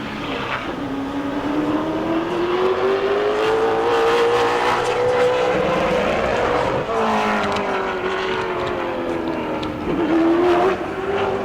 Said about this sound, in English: Spinning tires already coming out of turn 4.